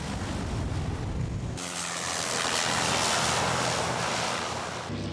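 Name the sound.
airplane landing at Saint-Barthélemy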